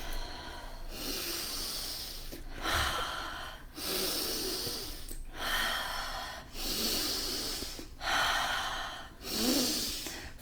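Deep yoga breathing, six long slow inhales and exhales through the nose in a steady rhythm, close and loud with short pauses between breaths and no talking.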